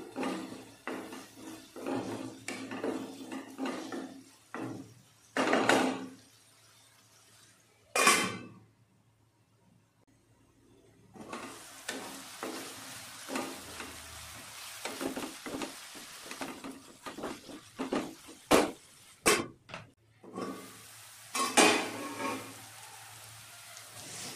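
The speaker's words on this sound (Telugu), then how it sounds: "కరివేపాకు కూడా వేస్తున్నాను. సో మళ్ళీ ఒకసారి మిక్స్ చేసుకుందాం." Onions and curry leaves frying in a pan for a brinjal curry, a steady close sizzle broken by bursts of scraping stirs, a brief lull when a lid covers the pan, then loud crackling resumes.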